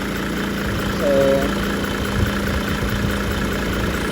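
A surplus Japan truck engine idles with a steady low, even rumble close by, a brief higher tonal whine rising over it early on; a voice says a single word.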